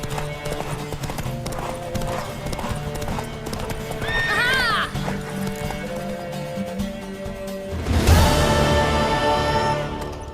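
Rhythmic hoofbeats clip-clop steadily while a horse whinnies loudly midway, with music and a burst of noise near the end, in The Witcher 3: Wild Hunt.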